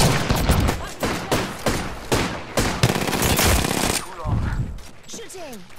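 Rapid bursts of automatic gunfire in the Apex Legends video game, sharp repeated shots fairly close, easing toward the end, where a voice speaks briefly.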